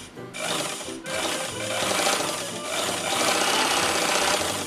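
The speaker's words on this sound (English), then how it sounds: "I think it's running a bit fast. And to my knowledge, sewing machines should run a bit slower than this." A 1930s sewing machine runs too fast at top speed, making a loud, steady, continuous mechanical whirr and clatter close by that lasts several seconds without talk.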